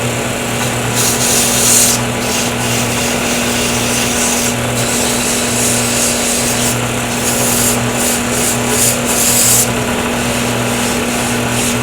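Sandpaper rubs a turned wooden pen blank spinning on a lathe, a steady gritty hiss over the motor's constant hum, close and even, with short pauses in the abrasion and no talk.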